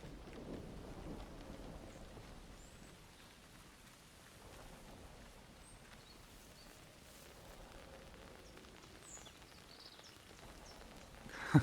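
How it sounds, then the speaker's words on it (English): Steady light rain falling on an umbrella in the video game Atomfall, a faint continuous patter with a soft thump at the very end. "It's raining, but you can hear the water on this umbrella even though there's no canopy."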